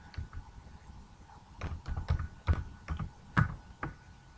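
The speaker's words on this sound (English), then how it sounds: "So I'm going to type." Computer keyboard keys clatter in short irregular bursts, close and fairly quiet, while a flyer is typed up in a design program; no voices over the tapping.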